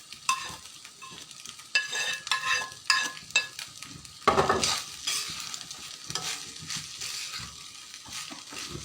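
Leftover rice fries with scrambled egg in a pan, stirred in rapid uneven strokes that scrape and clatter over a lively close sizzle, with no voices.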